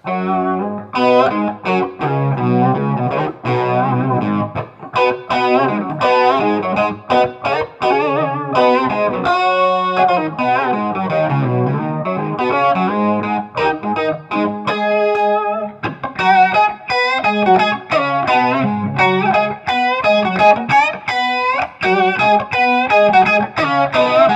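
Electric guitar played through a BOSS MO-2 Multi Overtone pedal in octave-below mode, a thick, chorused, slightly distorted tone with a lower octave doubling, notes and chords played continuously.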